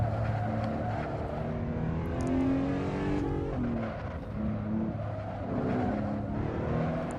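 A Porsche engine revs hard on a race track, pitch climbing steadily and dropping sharply at each gear shift, loud and continuous with no voices over it.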